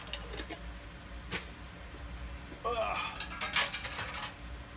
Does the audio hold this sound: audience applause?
no